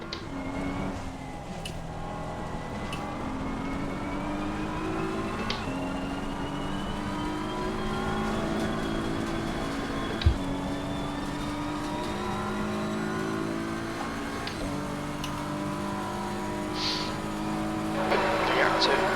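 Race car in a racing video game driving in the rain at Paul Ricard, a steady engine drone with rising and falling gear pitch sweeps and one sharp knock, heard over a voice commenting.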